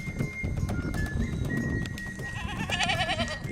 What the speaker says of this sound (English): So a goat just walked past me.